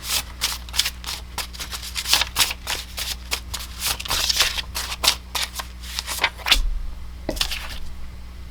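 Oracle cards are shuffled up close in a quick, continuous riffling flutter of crisp, papery bursts, with no talking.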